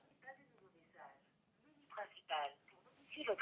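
An Amazfit T-Rex 3 Pro smartwatch places a phone call, giving electronic ringing and call tones in short bursts amid a quiet room, with someone speaking softly between them.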